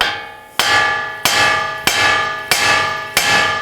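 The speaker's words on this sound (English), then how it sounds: "I'm going to use my hammer and strike the knuckle right here" Five heavy metallic hammer blows strike the steering knuckle of a 2018-2024 Toyota Camry during ball joint replacement, at a steady, unhurried pace, each ringing briefly before the next strike.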